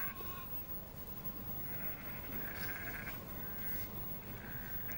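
Sheep in a snowy field bleat a few times, thin wavering calls over a constant hiss of background noise, faint and some distance away.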